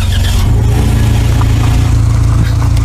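A car engine revs loudly in a video game, a dense, steady low rumble with a throbbing idle pulse that runs alone and close throughout.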